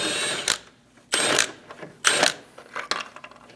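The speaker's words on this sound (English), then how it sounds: "Using a 10mm socket, remove the bolt for the grill." Ratchet with a 10mm socket removing a grille bolt on a 2001-2006 Chevrolet Silverado 2500 HD, four short bursts of clicking ratchet strokes separated by brief pauses, close and crisp.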